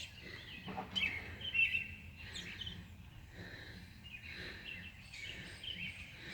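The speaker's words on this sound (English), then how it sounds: "Birds are singing." Birds chirp and sing at a distance through quiet outdoor ambience, with short calls scattered across the clip.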